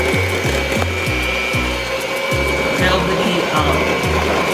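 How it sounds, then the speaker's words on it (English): A hand mixer whirs through pecan pie filling in a bowl, its motor buzzing with repeated rhythmic scraping pulses, loud and close throughout. "So we're gonna go in with our mixer."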